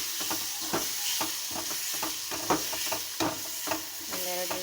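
Tomato frying in a pan with salt and turmeric for vermicelli upma, a steady close sizzle broken by frequent stirring clicks and scrapes of a spoon against the pan, with no talk.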